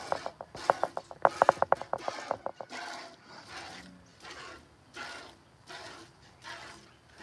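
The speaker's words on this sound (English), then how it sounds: "Sorry about the tripod noise." Rapid clicking and ratcheting from a tripod being adjusted close by, in bursts, followed by softer rhythmic scraping and shuffling noises.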